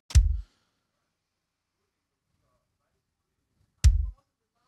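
A free kick drum trigger sample by Pedro Trigueiro, layered in a worship song drum mix, sounds as two isolated, punchy bass-drum hits with a sharp click on top, spaced nearly four seconds apart in silence.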